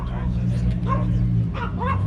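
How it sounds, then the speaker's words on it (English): Dog barking and yipping at an outdoor car meet in Scottsdale, Arizona, a few short bursts over a steady engine-like rumble and crowd noise, with people talking nearby. "That dog looks like a wolf."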